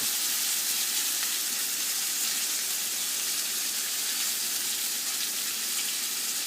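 Steak searing in a hot pan just after being flipped, giving a loud, steady, crackling sizzle that fills the whole stretch without interruption.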